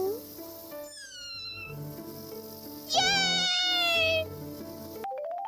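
A kitten in the video game Forest of Drizzling Rain gives two meows, a short one then a longer, louder, wavering call, over soft game music with a person's voice faintly present.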